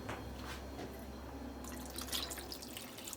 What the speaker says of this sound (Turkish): Suyunu üzerine gezdiriyorum.